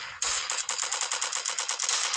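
Rapid automatic gunfire in the Milk Choco video game, a loud, close burst of evenly spaced shots firing in a quick rhythmic stream after a brief lead-in.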